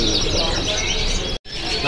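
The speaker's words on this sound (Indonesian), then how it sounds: "Nah, kita sekarang berlanjut ke burung kenari ini yang Merlock ya" A Merlok canary at a bird market chirps and trills in quick bursts close by, over a busy background with a short drop-out near the middle.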